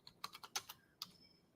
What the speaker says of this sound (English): I can type faster than this. It's just my keyboard's in the dark, so I'm having to guess.